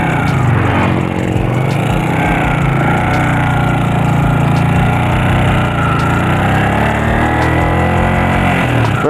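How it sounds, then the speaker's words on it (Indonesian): A motorcycle engine with valves still out of adjustment and ticking, running steadily and loud throughout, a constant mid-pitched drone with a light rattling tick layered in, no speech. "suaranya juga masih ngeletek dari klep, belum nyetel itu"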